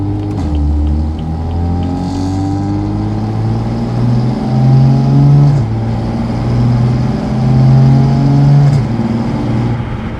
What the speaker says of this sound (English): We'll start with some valve closed driving, and then we'll go ahead and open it up so you guys can hear it.